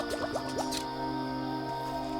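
Filling a jar with water in the game Wytchwood: a few quick rising liquid blips and drips, then a bright completion chime over soft game music.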